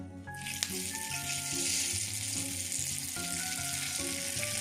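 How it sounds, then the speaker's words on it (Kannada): Hot tempering of mustard seeds, dried chillies and curry leaves is poured into ground ridge gourd peel chutney, bursting into a sharp hiss that settles into a steady close sizzle with light crackle, no voices. "ಈಗ ಈ ಒಗ್ಗರಣೆನ ರುಬ್ಬಿರೋ ಚಟ್ನಿಗೆ ಹಾಕೋಣ."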